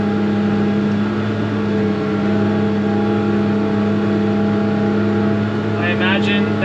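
A forage chopper chopping second-cut alfalfa, its loud, steady machine drone with strong tonal hum running throughout, the gearbox shaking, with a brief rattling burst near the end and no talk.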